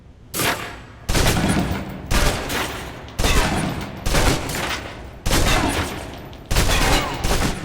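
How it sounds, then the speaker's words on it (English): Submachine gun bursts from the video game Alpha Protocol, emptying a full clip in several long sustained volleys separated by brief pauses, loud and close with no talking. "Now, let's move on to the submachine gun. Now let's empty the clip."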